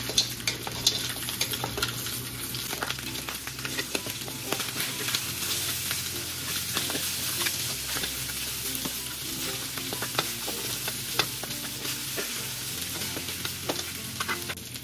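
Beef neck bones sear in a hot pan for a Kapampangan adobo, with a steady loud sizzle and occasional stirring scrapes throughout and no talking.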